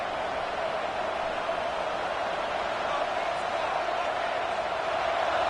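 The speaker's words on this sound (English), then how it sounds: "listen to this crowd coming through" A football stadium crowd at a Georgia versus Notre Dame game roars in a steady, dense, distant wash of noise that holds at an even level throughout.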